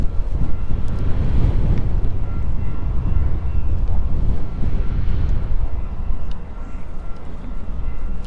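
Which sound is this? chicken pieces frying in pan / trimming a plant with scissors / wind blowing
wind blowing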